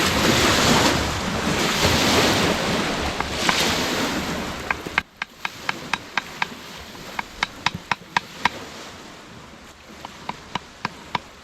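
Strong wind gusts over the Columbia River during a kayak trip, a loud steady rushing roar that drops away partway through, followed by a series of sharp regular clicks or taps.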